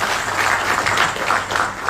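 Steady applause from an audience at an International Youth Day celebration in Sierra Leone, a loud, continuous wash of many clapping hands.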